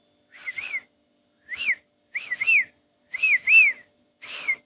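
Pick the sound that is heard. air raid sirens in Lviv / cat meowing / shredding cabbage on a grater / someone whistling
someone whistling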